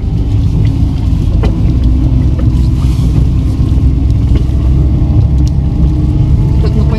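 A vehicle crawls in low gear along a rough winter forest road, giving a steady, loud engine rumble and drivetrain drone throughout, with faint knocks from the bumpy surface.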